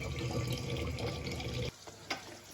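Lentils are rinsed in a kitchen sink under running tap water, a steady faint splashing stream that cuts off abruptly, followed by a few drips and a soft clunk.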